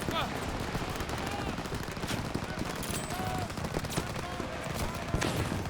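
Rapid bursts of suppressive gunfire crackle steadily through a Call of Duty: WWII battle scene, with sharp shots scattered over a dense, noisy backdrop.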